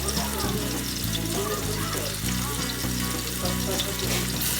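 Ground pork sizzling and frying in a pan for ginisang togue, a steady loud hiss with stirring scrapes, with low background music and no talk.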